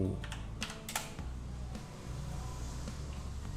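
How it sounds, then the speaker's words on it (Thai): Quick bursts of typing on a computer keyboard as a search is entered in the Chrome Web Store, a few sharp close clicks early on, then quieter tapping over a low steady hum. "แล้วเราพิมพ์ค้นหาคำว่าสวิต ทู"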